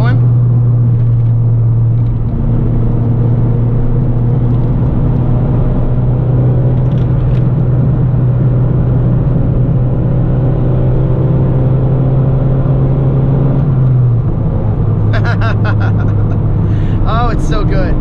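Honda Civic EG hatchback driving, its engine holding a steady drone that climbs slightly before easing off near the end, with road rumble throughout; a person talks briefly over the cabin noise.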